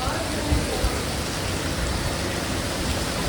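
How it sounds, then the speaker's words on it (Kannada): Heavy rain pours down steadily in Malaysia, a dense, continuous, fairly loud wash of noise with no distinct drops or voices standing out. "ಮಳೆ ಧಾರಾಕಾರವಾಗಿ ಹರಿತಾ ಇದೆ"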